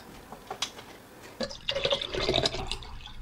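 Water pours into a jar of water kefir with sugar and a fig at the bottom, a steady splashing fill that starts partway through after a quieter few seconds of faint drips and handling, close and fairly loud.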